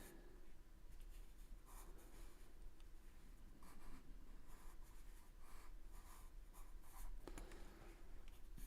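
Pencil drawing glasses on paper, a steady soft scratching and rubbing of the point across the sheet with short strokes throughout, close and quiet.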